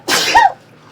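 A single sharp, loud sneeze, close up and short, followed by quiet.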